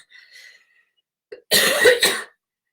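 A person coughs in a harsh, close burst of several rapid hacks lasting under a second, preceded by a faint short throat sound, in an otherwise quiet room.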